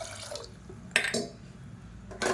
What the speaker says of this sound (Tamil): இப்போ இன்னும் கொஞ்சம் தண்ணி சேர்த்துக்கலாம்